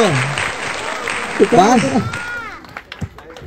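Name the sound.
audience applause at hypnotism show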